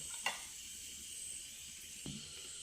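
Fenugreek seeds frying in hot oil for an anchovy curry, giving a steady soft sizzle and hiss throughout, with two brief louder crackles, close and faint.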